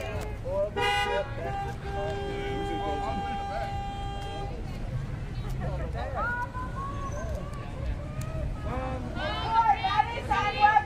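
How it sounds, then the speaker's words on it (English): A car pushing slowly through a crowd of marchers on a street, with horn toots early on amid loud crowd chatter and shouting throughout. "Step to your left, let the car through."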